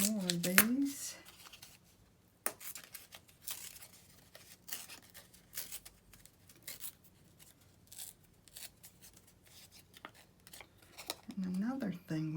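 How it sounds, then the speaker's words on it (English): Scissors snip out small paper shapes for an alphabet craft page, with soft, intermittent cuts and paper rustles between brief bursts of nearby talk at the start and end. "I will just go ahead and cut out a few more of these"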